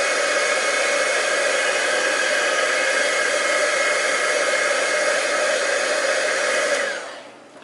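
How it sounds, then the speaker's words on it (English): A heat gun blows a steady, loud, close hiss of hot air over a gold-embossed handmade card for about seven seconds, then winds down and cuts off. "I'm going to give it a quick shot of the heat gun just to make sure that's really dry."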